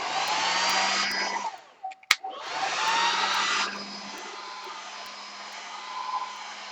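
A hair dryer blows in a steady loud whir drying a stencil for gelli printing, briefly cut off with a click and then switched back on before stopping, leaving a faint low hum.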